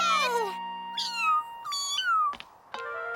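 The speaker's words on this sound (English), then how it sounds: "High above Paris, there it sat, a tiny, helpless little cat." A small cartoon kitten in a Madeline animated film meows several times in a row, high-pitched, clear and close, with short plaintive cries and no talk over them.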